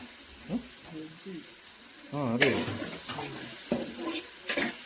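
Onions and tomatoes fry and get stirred in a pan, a soft sizzle with clinks and scrapes of a spoon against metal, partly under nearby talking.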